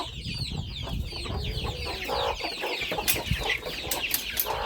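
A flock of young chickens peeps and squeals continuously in high, overlapping cries, with some clucking close by and scuffling underneath.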